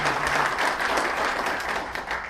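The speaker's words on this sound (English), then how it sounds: "Let's give Scott a round of applause." An audience at a real estate gathering applauds, a dense, steady wash of clapping from many hands that holds at even loudness throughout.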